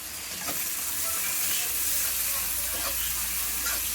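Pieces of catla fish fry in very hot oil with a loud, dense sizzle and spattering crackle, close up and continuous, with a few stirring sounds and no talking.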